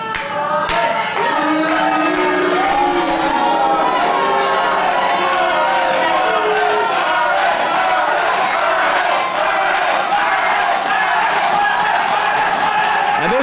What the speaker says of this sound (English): And this crowd coming alive for Steve Mulligan here in Trabolgan.